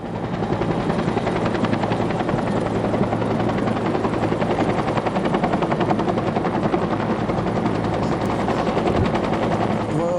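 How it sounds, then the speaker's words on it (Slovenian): A Slovenian police Agusta Bell AB-212 helicopter roars continuously and loudly, its rotor beating in a steady rapid chop that fills the whole stretch with no voices. "smo to izpeljali s pomočjo helikopterja slovenske policije z helikopterjem AB-212"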